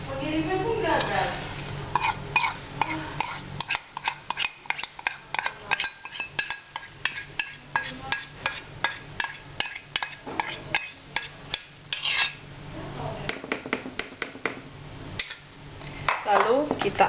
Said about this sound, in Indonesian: Lalu kita aduk adonan ini sampai merata